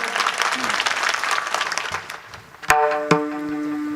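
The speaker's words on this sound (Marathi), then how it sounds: "या कोकिळांसाठी टाळी वाजवा जरा जोरात एकदा." Crowd at a Marathi kirtan performance applauding, a broad wash of clapping that tapers off after a couple of seconds, followed by sharp harmonium-like musical tones starting up.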